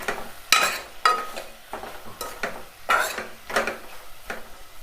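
Spices frying in a pan for mango dal crackle and sizzle under repeated stirring, with several distinct scraping strokes of a utensil against the pan recurring about every half second to second, close and clear.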